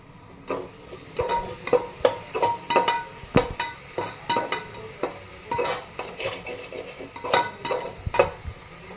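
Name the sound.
ginger and garlic being added and stirred in frying pan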